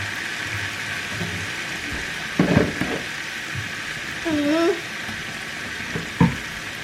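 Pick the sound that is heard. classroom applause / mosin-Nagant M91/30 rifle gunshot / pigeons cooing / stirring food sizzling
stirring food sizzling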